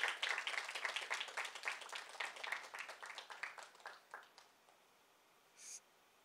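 Audience applause welcoming a guest speaker at a formal session, dense clapping from many hands that thins out and fades over several seconds, ending in quiet with a brief soft noise near the end.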